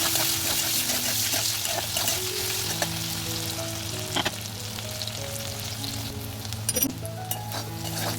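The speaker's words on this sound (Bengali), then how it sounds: "এই সামান্য হলুদ দিয়ে আর অল্প কিছুটা নুন দিয়ে ভেজে নেব আমগুলোকে" Raw mango pieces fry with turmeric and salt in a pan, a continuous close sizzle broken by scraping stirs and a few sharp clinks, with no talk.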